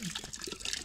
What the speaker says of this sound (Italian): apriamo un po' il rubinetto